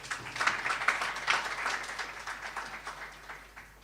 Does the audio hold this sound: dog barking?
no